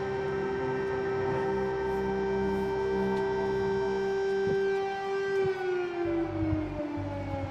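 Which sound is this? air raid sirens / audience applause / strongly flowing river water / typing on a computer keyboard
air raid sirens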